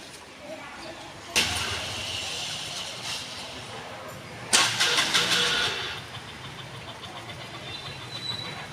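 A scooter engine revs during riding practice, surging in two throttle bursts over a steady idle, with a voice talking in the background.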